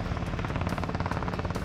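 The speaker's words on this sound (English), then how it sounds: "Captain Kate controls the helicopter by pointing the rotor blades in the direction she wants the helicopter to fly." Rescue helicopter flying, its rotor blades beating in a fast, steady rhythmic chop, loud and close, with no voices over it.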